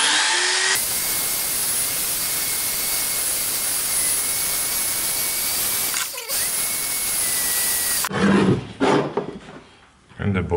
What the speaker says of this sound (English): You can refresh these bits as well, same way, the wire brush